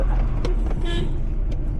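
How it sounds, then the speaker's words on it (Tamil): A car horn toots briefly amid steady road traffic noise, with engines rumbling nearby, on the Mulli forest road from Coimbatore to Ooty, Tamil Nadu. "இங்கே வந்து பார்த்தீங்கன்னா ப்ராப்பராக ஹார்ன்லாம் அடிச்சுட்டு அப்படி தான் வருவாங்க."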